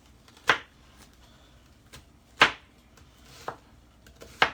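A knife chops onion on a cutting board, giving four or five distinct, crisp thuds spaced irregularly and close by, with no talking.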